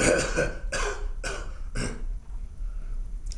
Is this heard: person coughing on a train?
yes